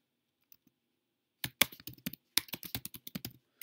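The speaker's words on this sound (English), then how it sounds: "Under Topic, you're going to type a description." Fast typing on a computer keyboard, heard alone and close up: a brief pause, then a quick irregular run of crisp key clicks lasting about two seconds.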